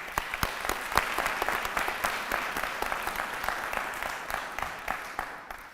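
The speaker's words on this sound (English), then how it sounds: "please join me in showing our appreciation with a round of applause to them as well" An audience applauds at a college graduation pinning ceremony, with dense, steady clapping and sharp individual claps standing out, holding at a fairly even level for several seconds.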